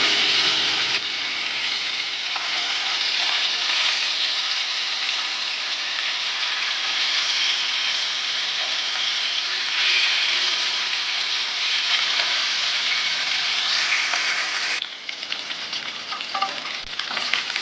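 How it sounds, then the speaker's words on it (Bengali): Koi fish fry in hot oil with a loud, steady hissing sizzle that runs continuously, then becomes slightly more uneven and crackly near the end. "মাছগুলোকে আমি খুব কড়া করে ভাজবো না, হালকা করে ভেজে মাছগুলোকে তুলে নেব।"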